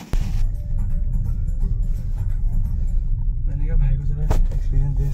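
A big car's engine rumbles low and steady close by, swelling slightly as it pulls away, with voices talking over it and a brief sharp knock near the start.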